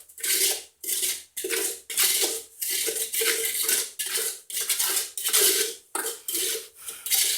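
A thick, soupy concrete-like mix is stirred in a container with about ten rhythmic scraping, sloshing strokes separated by short pauses, loud and close.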